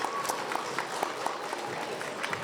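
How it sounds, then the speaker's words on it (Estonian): Audience clapping at a school charity playback show as a young girl guitarist named Gabriella is called on stage; scattered, uneven claps from a modest crowd with some distinct individual hand strikes. "Aplaus Gabriellale."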